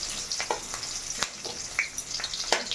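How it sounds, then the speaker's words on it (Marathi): Onion and curry leaves frying in a pan, a busy crackling sizzle full of rapid pops and spatters, close and fairly loud, with no talking. "आता मी कांदा आणि कढी लिव्ज हा फ्राय करून घ्यायचा"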